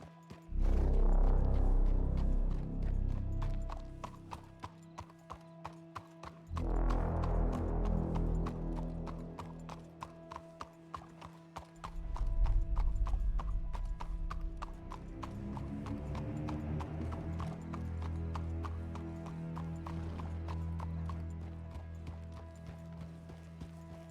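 Horse hooves clip-clopping in the Red Dead Redemption roleplay game, a steady trotting rhythm that runs loud and close for the whole stretch, with an occasional neigh and no talking.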